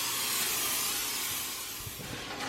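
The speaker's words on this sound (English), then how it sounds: "I'm going to just spray it with some cooking spray" Cooking spray hisses steadily from an aerosol can into a baking dish, a soft, continuous close-up spray lasting a couple of seconds before a small clunk at the end.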